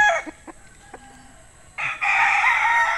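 A bull stag rooster crows once, loud and close, in a long drawn call, after a few short faint clucks and bird sounds.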